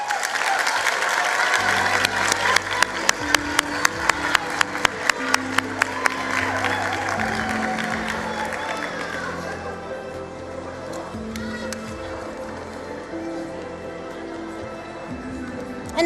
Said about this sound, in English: Another round of applause for KwaZulu Natal